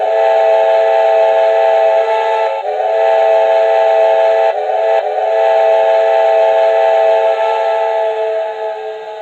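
An HO-scale Broadway Limited ATSF 4-8-4 Northern model steam locomotive whistle blows loud and steady for about nine seconds, with two brief dips, then fades slightly at the end.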